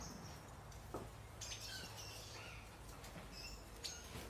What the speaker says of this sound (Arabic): ده المكان اللي العصافير بتخلف فيه